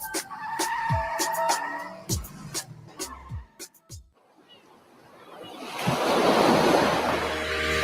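Ocean waves wash onto Kittles Beach. Close, sharp knocks and a brief lull come first, then the surf rises into a broad, steady roar mixed with wind noise.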